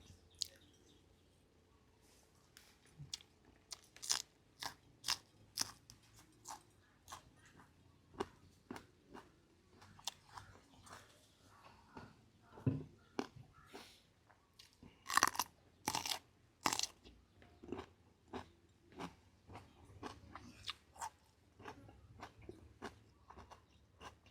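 Crisp, close crunching from chewing soft fermented pork skin (naem), a Thai pork sausage. Irregular bites and squishy chews repeat over a quiet background with no talking.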